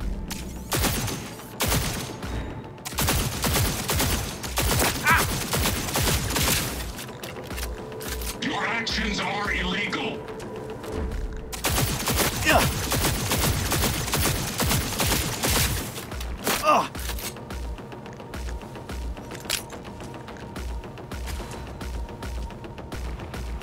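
Pistol and double-barrel gunfire in Cyberpunk 2077, loud repeated shot bursts in clusters with mechanical clicks and reload sounds between them, while a voice talks over parts of it.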